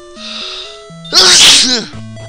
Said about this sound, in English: I have a sneezing fit as I go.